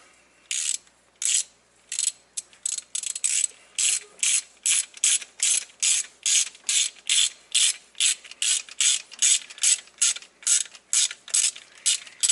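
A ratchet fitted with a 10mm 12-point socket tightens a truck fuel injector, giving about two dozen crisp, evenly spaced clicking bursts close to the mic, with nothing else heard.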